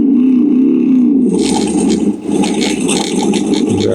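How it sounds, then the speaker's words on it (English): A simulated pickup truck engine played through the built-in sound-effect speaker of a HillMiles Mile Pop1 mini electric dirt bike, shifting from a low rumbling hum into a louder, rough idling roar that holds steady to the end. "Sounds like Sully's pickup truck."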